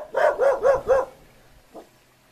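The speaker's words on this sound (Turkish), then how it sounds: "Arkamdan havlıyor. Hala da havlıyor." Four quick dog barks in a steady rhythm, fairly close, followed by a softer single yip after a short pause.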